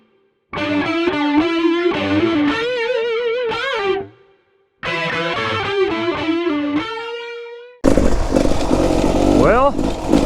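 Enduro motorcycle riding on trail 941 at Little Naches, the engine revving loud and close in two long surges with shifting pitch, then a burst of wind and rougher engine noise.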